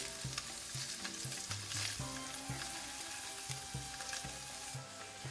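Paneer shallow-fries in a pan with a little oil for palak paneer, a steady soft sizzle with regular stirring knocks repeating about every half second, close and without voices.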